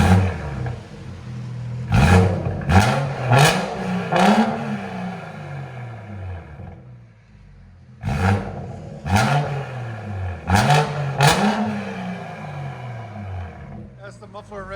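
A tuned 2017 BMW 540i with a 3.0L inline-six, downpipes, stage 2 tune and straight-pipe exhaust with muffler and resonator removed, revving in loud repeated blips that rise and fall, in two bursts separated by a brief lull.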